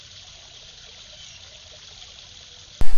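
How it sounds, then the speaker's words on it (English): Running water from a home waterfall makes a steady, close trickling rush that fills the whole stretch without change, cut off at the end by a sudden loud bump. "it looks like it's picking up my waterfall"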